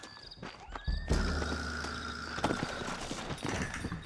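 Horses whinny and hooves clop on the ground in Red Dead Redemption, a neigh rising near the start before a louder thud and steady movement over low game ambience.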